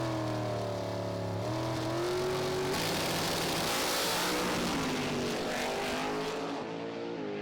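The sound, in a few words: drag racing cars racing at about 400 km/h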